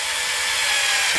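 A power driver spins screws snugly into the bottom frame plate of an RC EYE NovaX 350 quadcopter, a steady high-pitched whir lasting just over a second, close and loud.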